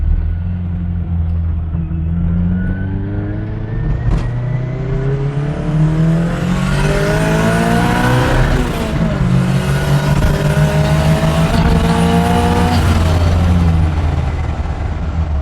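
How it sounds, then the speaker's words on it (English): A turbocharged Toyota 4AGE engine in a Mazda 323 revs hard through the gears, pitch climbing and dropping repeatedly with a turbo whine, loud and close from inside the vehicle. "That's the Toyota engine."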